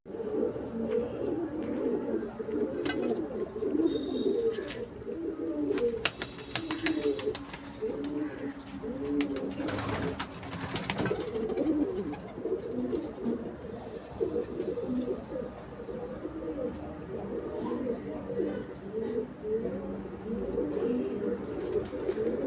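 Andhra and Madras breed pigeons coo softly in a loft, low throaty murmurs repeating steadily under background rustles, with a brief clatter near the middle and someone talking at times.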